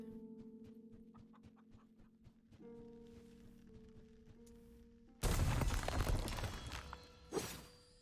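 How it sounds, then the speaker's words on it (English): Chicken clucking in a video game, a run of short rhythmic clucks over a steady tonal music bed, then a loud burst of noisy clatter near the end. "Hello, chicken."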